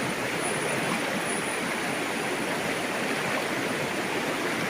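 Water rushes and splashes continuously in a steady broadband roar, a fast mountain stream heard up close, with no talking.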